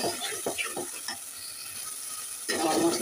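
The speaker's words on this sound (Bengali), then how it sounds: "আর একটু ভালো করে কষিয়ে নিই।" Chopped garlic and spices fry in a pan for egg dal, with a soft sizzle under several quick spoon scrapes and stirs, then a louder burst of frying near the end.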